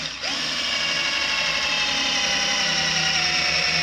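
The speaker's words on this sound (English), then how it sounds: "3/8 drill bit through quarter inch steel with the Drillmaster 18-volt" A Drillmaster 18-volt Harbor Freight cordless drill with a 3/8-inch bit bores through quarter-inch steel, its motor whine starting abruptly and holding a loud, steady, strained drone throughout.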